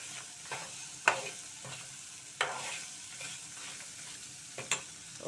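Ginger pickle ingredients fry and get stirred in a pan, a steady sizzle broken by a few sharp scraping stir strokes, close and alone with no voices.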